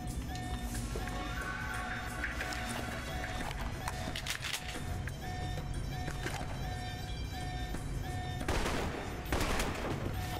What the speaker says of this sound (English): God, my rifle's strong.